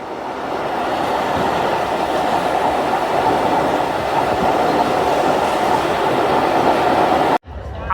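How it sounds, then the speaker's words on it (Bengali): Ovijatri commuter train rolling into Keraniganj railway station, a loud, steady rumble of rail cars and wheels that holds for about seven seconds, then drops abruptly to near silence. "আমাদের ট্রেনটি কেরানীগঞ্জ রেলওয়ে স্টেশনের 1 নং প্ল্যাটফর্মে প্রবেশ করছে।"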